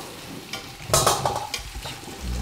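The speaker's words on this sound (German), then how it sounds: "Einmal ein bisschen brutzeln lassen." Carrots and onions for a stew sizzle and fry in a pan, with stirring clatter and a louder burst of frying near the middle, steady crackle throughout and no talk.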